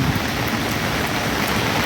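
Dense, steady heavy rain at night hisses loudly and evenly throughout, a constant wash of noise with no voices.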